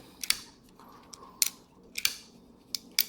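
Several sharp metallic clicks and snaps from a Ganzo G711 folding knife flipping open, spaced irregularly, with a soft sliding rustle between them as it comes out of a flap pouch, close and crisp with no talking.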